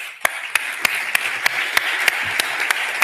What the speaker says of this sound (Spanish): Un aplauso Silvia.